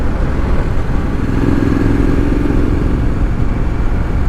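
2020 Triumph Street Scrambler engine revving up to about 5,000 RPM, a steady, loud, close droning motorcycle roar with rising pitch and no speech.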